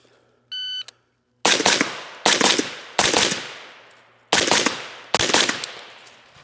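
Five sharp gunshots crack at a shooting range, with doubles fired out to 50 to 60 yards. A short electronic timer beep comes first, then the shots land in spaced bursts, each with a ringing decay.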